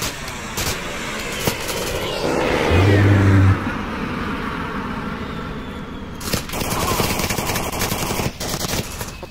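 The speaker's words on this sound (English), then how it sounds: "Because I can hear gunshots over there." Scattered gunshots and short bursts of rifle fire in the VR military shooter Onward, mostly distant and sporadic, over a steady low rumble of background noise.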